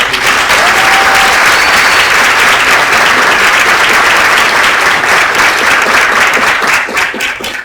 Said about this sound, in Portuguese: uma salva de palmas realmente